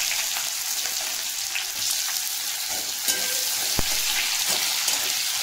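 Onions sizzle in a hot pan with cumin, bay leaf and chilli, a steady close frying hiss with occasional stirring clinks throughout.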